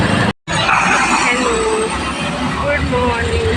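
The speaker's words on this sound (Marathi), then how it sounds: "ॲक्च्युली आता मी ऑटोमध्ये आहे." Traffic heard from inside an auto-rickshaw: a continuous engine and road rumble with passing vehicles and a brief horn-like tone, broken by a short dropout near the start, with a voice talking over it.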